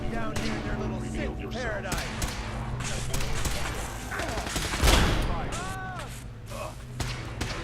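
Gunfire in a Fallout 4 firefight, rapid shots and thuds mixed with game effects and music, with continuous talk over the top and a louder burst near the middle.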